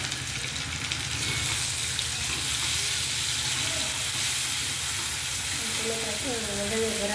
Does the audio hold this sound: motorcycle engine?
no